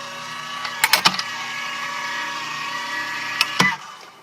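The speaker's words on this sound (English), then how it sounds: "I'm using the Vagabond. It's the Tim Holtz Signature Sizzix machine. It's electric. It's noisy." Electric Tim Holtz Sizzix Vagabond die-cutting machine running with a steady motor whir, punctuated by a few sharp clunks near the start and again near the end, alone in a quiet room.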